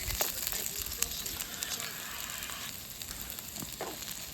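Onions fry in a pan at a wild camp by Grisedale Tarn in the Lake District, giving a soft, steady sizzle with occasional crackles and pops. It is quiet and close, with a faint outdoor background.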